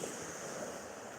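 Sea surf breaking on a Black Sea pebble beach in the evening, a steady, fairly close wash of waves with some wind noise across the microphone and no talking.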